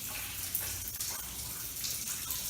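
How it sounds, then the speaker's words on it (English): Rainwater streams through a joint in a water-damaged roof over century-old rafters, a steady hissing gush with faint splashing, constant and fairly quiet throughout. "It's leaking water like a sieve."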